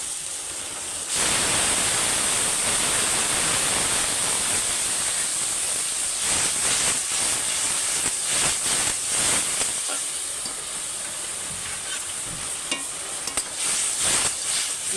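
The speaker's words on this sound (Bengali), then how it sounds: "ওই মশলার জলটা আমি দিয়ে দেবো" Spiced water poured over potatoes frying in a pan for a greens curry sets off a loud, steady sizzle and steam hiss. A few sharper crackles and stirring scrapes sit within a constant wash.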